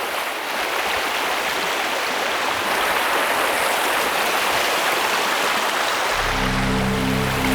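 River water flows loudly and steadily in a broad, continuous rushing wash, with a low droning hum joining near the end.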